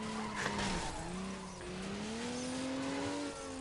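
A car's tires squeal in a long, wavering screech while drifting in a Need for Speed game, with the engine droning underneath, close and steady for the whole stretch.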